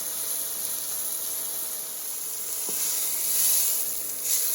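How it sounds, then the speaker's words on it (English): Pork tenderloin sears in olive oil in a pan, giving a steady, moderate sizzle and hiss that swells slightly toward the end, with no talking. "let that side get nice and seared"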